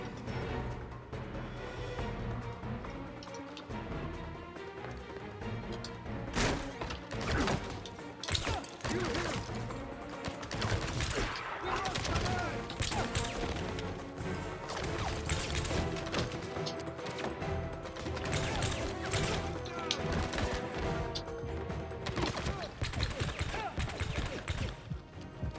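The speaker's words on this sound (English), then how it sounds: "Shoot a bunch of people." Gunfire from shooting people in the James Bond 007: Blood Stone video game, dense rapid cracks and crashes over a loud, busy game soundtrack, with faint voices now and then.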